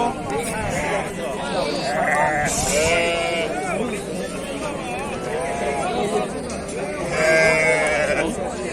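Sheep and lambs bleat repeatedly in a busy sheep market in Fuzuli, their wavering cries overlapping with steady chatter and bargaining voices from a crowd nearby.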